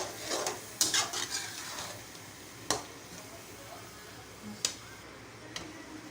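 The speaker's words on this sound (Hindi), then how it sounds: "अब इसको थोड़ा सा मैं भून लेती हूँ" Pota kaleji masala, chicken gizzard and liver with chili, fried and stirred in a pan: a quiet steady sizzle broken by a few sharp clicks and scrapes of a spoon against the pan.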